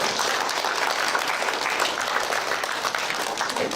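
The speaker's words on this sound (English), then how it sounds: "Can we give these people a huge round of applause?" A school assembly crowd claps steadily and loudly throughout, a dense, continuous round of applause with no pauses.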